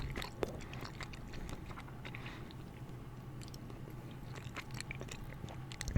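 Close, intimate chewing of chewy candy in a quiet ASMR setting: soft wet squishes and sticky bites repeating in an irregular rhythm, with small clicks of the mouth and no talking.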